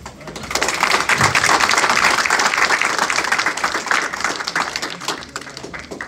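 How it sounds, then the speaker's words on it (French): Applause from a congregation in a Catholic church in Brockton during an anniversary celebration, a dense, steady clapping that swells quickly, holds for several seconds and then gradually thins out. "On vous applaudisse encore pour le président"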